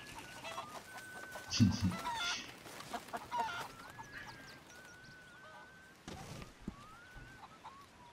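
A Java chicken clucking in a camp in the video game Red Dead Redemption 2: repeated soft clucks and a few sharper squawks close by, over a faint outdoor ambience with occasional bird chirps.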